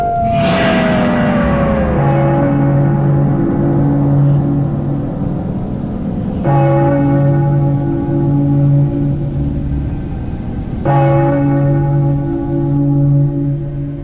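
A church bell tolls three times at slow, even intervals, each strike ringing out and fading.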